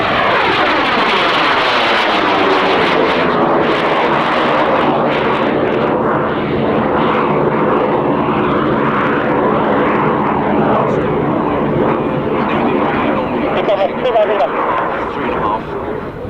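A military jet pulling hard through turns at an airshow roars loudly overhead, its engine pitch sweeping and shifting as it banks, with a voice talking beneath the noise.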